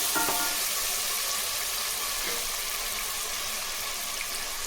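Garlic, shallots and green chili sauté in oil for a pressure-cooker rice dish, with a steady close sizzle and a few scraping stirs near the start, no voices.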